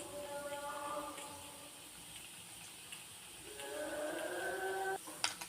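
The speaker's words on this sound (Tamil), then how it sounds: "நல்லா கடுகெல்லாம் பொரியட்டும்" Mustard seeds splutter in hot oil in a pan, a faint, steady sizzling hiss with occasional soft pops.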